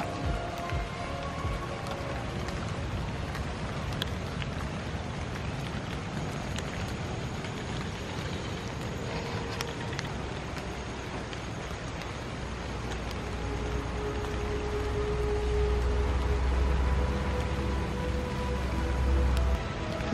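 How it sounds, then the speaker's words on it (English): Heavy rain pours steadily on a Costa Rica street near Manuel Antonio, a dense continuous hiss of drops hitting surfaces, with a deeper rumble building toward the end. "because it's raining too much"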